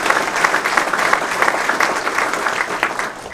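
Audience at a football complex dedication ceremony applauding the construction team, a loud, sustained burst of many hands clapping with slight swells.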